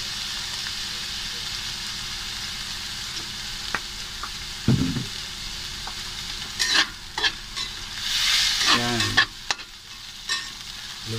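Eggplant frying in oil in a pan for talong with bagoong, a steady bright sizzle broken by loud scraping stirs and clacks of a utensil, with a brief voice near the start.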